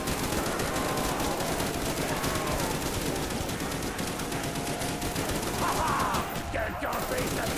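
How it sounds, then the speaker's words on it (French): Dense, continuous automatic gunfire in a zombie shooter game, loud and unbroken rapid bursts layered over one another with no pause throughout. "Ouais, bah moi, je tire."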